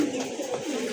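Indian Bombay pigeons, a red-coloured pair, give a short throaty coo, low and close, in a brief burst.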